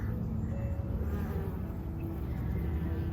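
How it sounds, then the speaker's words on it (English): Steady bee buzzing hums continuously around container garden plants in August, beneath a dense outdoor background, with no one speaking. "We've got busy bees here."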